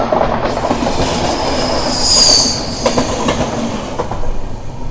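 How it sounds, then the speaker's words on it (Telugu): The Kerala Superfast Express passes close by, a loud steady rumble of rolling wagons with rhythmic wheel clatter and a shrill wheel squeal swelling midway. "ఈ ట్రైన్ వచ్చేసి Kerala super fast express train."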